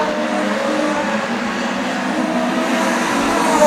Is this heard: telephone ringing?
no